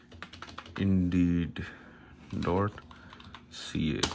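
Computer keyboard keys clatter in quick bursts of typing while someone talks over them in Hindi, the taps close and fairly soft between his phrases.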